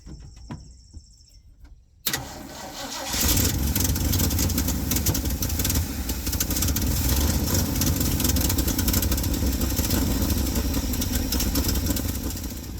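An old Ford F100 engine cranks briefly after a quiet start, then catches and runs with a loud, rough, steady roar close by.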